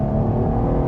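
Engine of a 2019 Chevrolet Camaro RS heard as a brief, steady low rumble, close and fairly loud, with no voices.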